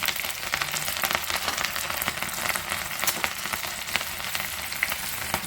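Green chillies crackle and sizzle steadily in hot oil with mustard seeds for a suji dhokla tempering, a close, continuous spitting hiss with small sharp pops throughout and no talking.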